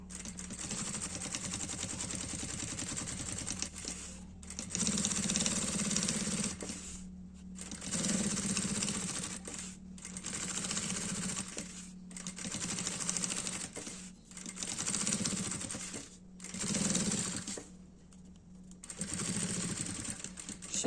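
Home sewing machine running slowly along a seam at a long stitch length of about 4.5 to 5 while making a multipurpose zippered case, its steady whirring stitching coming in repeated bursts separated by short pauses.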